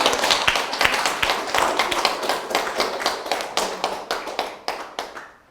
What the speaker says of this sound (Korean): 우리 돌아온 노라를 위해서 박수 한번 부탁드립니다.